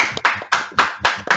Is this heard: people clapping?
yes